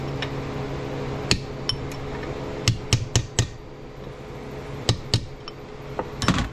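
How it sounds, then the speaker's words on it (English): A hammer taps a bearing into a Ford NP205 transfer case, giving sharp metallic strikes at irregular intervals, sometimes single and sometimes in quick clusters of two or three, close and fairly crisp over a quiet background. "I like the hammer a little bit better."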